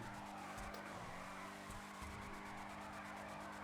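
A drift car in a video game skids with a continuous engine drone and tire squeal, steady and moderately loud throughout.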